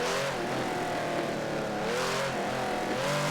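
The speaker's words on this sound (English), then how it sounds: "Listen to those exhaust backfires." A loud Pagani Zonda race car engine revs and roars steadily in the video game Forza 7, its pitch rising and falling, with sharp popping exhaust backfires scattered through.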